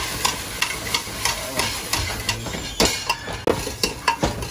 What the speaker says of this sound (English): now we put the green peas on it in the onion to fry it